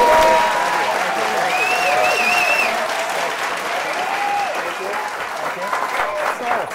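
A studio audience at a live talk show applauds and cheers to welcome a singer-songwriter, with loud continuous clapping and a few whoops, while voices talk over the noise.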